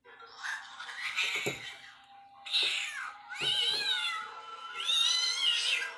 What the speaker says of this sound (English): Hearing Chucky replay the cat's death wails is deeply disturbing